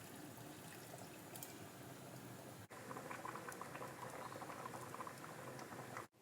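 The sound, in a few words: fenugreek porridge boiling in pot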